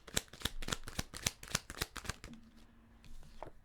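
Tarot cards shuffled by hand, a quick series of close, crisp papery snaps for about two seconds, then a quieter pause with a faint hum and a last light card sound.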